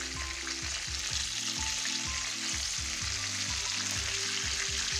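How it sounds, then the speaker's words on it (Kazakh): Cutlets fry in hot oil in a pan, giving a steady, close sizzle with a constant bubbling hiss and no voices. "Ал міне, енді котлеттеріміз бір жағын аударамыз, екінші жағына."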